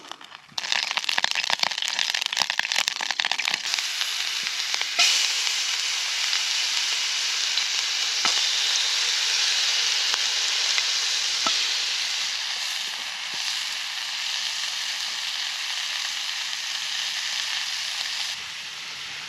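Squirrel meat frying in oil in a stainless steel pan at a solo woodland campsite, a steady loud sizzle with crackles that slowly eases, no talking.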